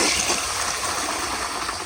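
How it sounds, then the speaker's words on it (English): A 1965 Kohler Barlow toilet on a flushometer rushes with a loud, steady hiss of water, close and continuous with no voices. "But here is another flush."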